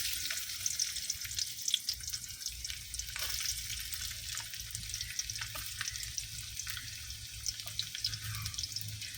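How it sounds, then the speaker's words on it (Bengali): Chopped garlic frying in hot oil, a continuous fizzing sizzle with crackling pops, steady and close, with no one talking. "প্রথমে এই যে রসুন কুচিগুলা দিয়ে দিচ্ছি"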